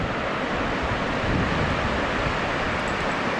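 A roaring river rushes past big rocks in a canyon at Riverside State Park, a loud, steady broadband wash of water with some wind buffeting and no voices.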